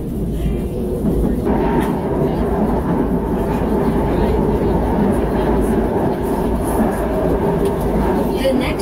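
A train rumbles into a station in the Philippines on a rainy day, steadily and loudly, a constant low clatter and hum filling the whole stretch without letup.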